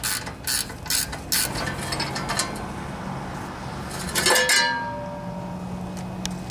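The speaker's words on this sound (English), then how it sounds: "if we take off this heat shield here, we'll have a lot better view of the carburetor. So let's do that. It's a 1/2 inch wrench I have here." A half-inch ratchet wrench loosens bolts on the heat shield of a Briggs and Stratton 18.5 hp V-twin OHV Intek lawnmower engine, with close, rapid clicking in repeated bursts and a final metallic clink.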